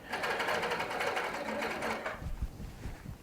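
A Baby Lock sewing machine stitches rapidly while couching handmade cord during quilting, a fast steady close-up whir that stops near the end, followed by a few soft handling bumps.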